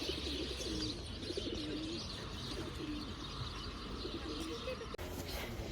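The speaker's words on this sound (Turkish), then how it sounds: "Burada böyle güvercinler var." Pigeons coo low and repeatedly in a Cappadocia valley, soft throaty calls over a steady bed of outdoor wind and ambient noise, with a brief thump near the end.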